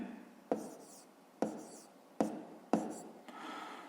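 A pen writes on paper while working a fifth-grade maths exercise, four distinct scratchy strokes about a second apart, each starting sharply and trailing off, with a softer rustling stroke at the end; close and quiet, no talking.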